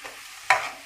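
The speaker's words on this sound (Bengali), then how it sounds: "একটু জিরা গুঁড়ো, হলুদ গুঁড়ো, একটু পরিমাণ মতো নুন দিয়ে দিলাম। দিয়ে ভালো করে কষিয়ে নেব।" Potatoes sautéing with cumin, turmeric and salt in a pan, giving a soft background hiss broken by one sharp scrape or stir about halfway through, followed by a steady sizzle.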